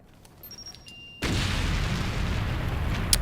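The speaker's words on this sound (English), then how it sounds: "look at that explosion" An explosion in the Metroid: Other M video game cutscene bursts in as a loud, sustained broadband roar after a few faint electronic tones, rumbling on steadily to the end.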